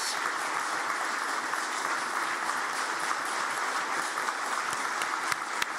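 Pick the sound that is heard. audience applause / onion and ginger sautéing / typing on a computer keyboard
audience applause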